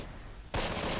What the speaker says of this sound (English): Oh, well, they're trying to fire at me.